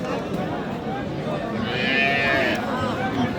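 Cattle lowing at a busy cow market where crossbred cows and calves are sold, the calls rising over steady crowd chatter and general market noise.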